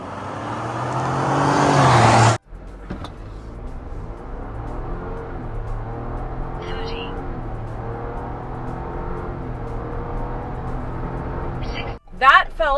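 A Ford Bronco with a performance calibration accelerates hard on the road, its engine rising steadily in pitch through the gears with a loud roar. A voice is heard briefly near the start, and wind noise is present.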